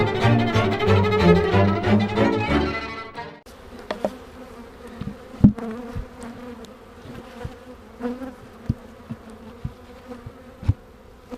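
Honeybees buzzing at a hive as they bring in nectar and pollen, a loud close hum at first, then a steadier swarm drone with occasional sharp knocks and taps of hive equipment.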